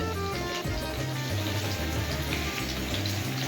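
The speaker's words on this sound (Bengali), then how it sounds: "এই দিয়ে গরম জলটা বসিয়ে দিলাম" Hot water pours steadily into a pan of fried papaya and potato for a vegetarian curry, a continuous close splashing rush with a faint hum beneath.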